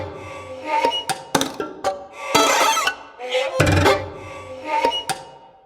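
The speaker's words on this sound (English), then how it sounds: "I want ricochets and I want knocks and plucks. I don't want dives." String ricochets, knocks and plucks from the Unstrung sample library by Fallout Music Group, heard as a series of sharp percussive taps, bouncing bowed bursts and plucked tones in an irregular pattern, with no talking.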